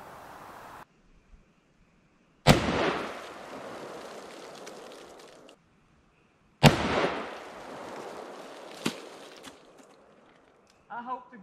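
Two loud gunshots are fired outdoors toward a chain-link fence several seconds apart, each a sharp crack with a decaying rumble, amid faint background noise and a brief voice at the end.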